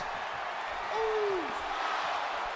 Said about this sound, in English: Crowd responding to Jey's Uso call.